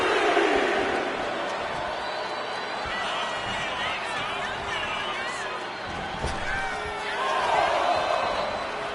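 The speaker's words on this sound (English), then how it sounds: "And Nia is revving this crowd up." In the WWE 2K25 wrestling video game, an arena crowd roars and cheers during a women's match between Nia Jax and Lyra Valkyria, a dense sustained swell that rises at the end, under commentators talking.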